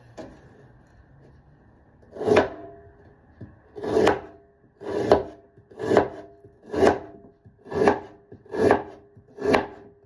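A knife chopping ginger into small pieces on a board, about eight distinct crisp chops at a slightly uneven pace after a quiet start, close up and with no speech.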